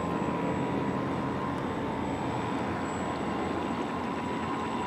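Motor of a radio-controlled boat taxiing on dam water, a steady, continuous droning whine with constant loudness across the whole stretch and no voices.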